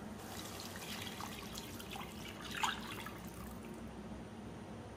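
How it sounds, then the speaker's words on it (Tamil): Steady soft trickle of three cups of water running into a pan while making pineapple rava kesari, with a brief louder splash midway; no talking. "அடுத்து வந்து நம்ம எடுத்து வச்சிருக்க 3 கப் தண்ணி வந்து இதில் சேர்த்துடலாம்"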